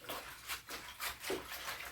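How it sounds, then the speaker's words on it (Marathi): Wild kurdu greens, a forest leafy vegetable, being rinsed by hand in a container of water, giving repeated close splashing and sloshing bursts with no talking. "पाण्यात परत एकदा स्वच्छ करून टाकणार आहे"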